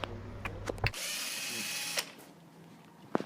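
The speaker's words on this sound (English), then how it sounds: "Press the lock button to put it into reverse," A cordless power drill set to reverse backs screws out, giving one sustained whirring run of about a second with a few clicks and knocks before and after, close and fairly quiet.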